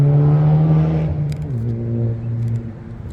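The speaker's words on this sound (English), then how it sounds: "Don't you love it when small cars have loud exhausts?" Small car with a loud exhaust revs up close by, a strong droning rise that drops and settles into a lower rumble before fading.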